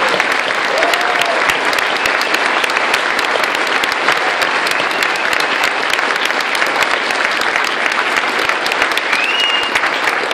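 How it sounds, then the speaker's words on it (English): An audience applauds for Daniel Ellsberg and Edward Snowden, a steady roar of dense clapping from a large crowd, loud and unbroken throughout with a few faint whoops. "I know there are some of you who felt you didn't applaud enough for Daniel's amazing speech"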